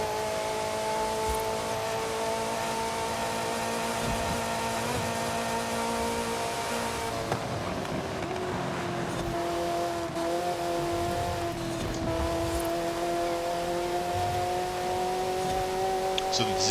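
A 1987 Ferrari F40 engine in the Forza Horizon 5 racing game drones at a moderate level with a steady pitch, briefly dropping and shifting midway before climbing again under a faint hiss.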